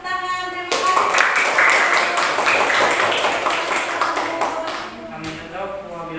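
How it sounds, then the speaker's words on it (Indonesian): A school class gives applause after a group presentation, a burst of many hands clapping that rises suddenly and continues steadily for several seconds before thinning out, mixed with a voice. "Berikan tepuk tangan."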